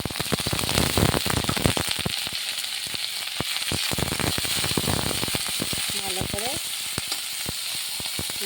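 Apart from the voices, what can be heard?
dried fish frying in a pan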